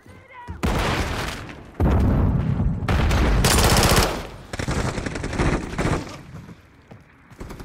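A flashbang grenade goes off in Call of Duty: Modern Warfare 3 amid dense automatic gunfire and booming blasts, loud and continuous bursts with a broad, bright crack in the middle before the noise tapers off.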